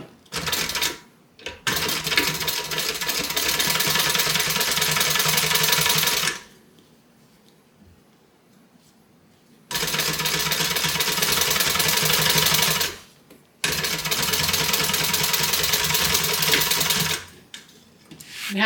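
A sewing machine top stitches a tote bag closed with a scant 1/8 inch seam, in three long, steady, close runs of rapid mechanical chatter separated by brief pauses.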